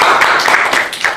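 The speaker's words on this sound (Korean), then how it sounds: "큰 박수 부탁드립니다" Brief, dense audience clapping at a live internet broadcasting event, a loud burst of many hands lasting about a second.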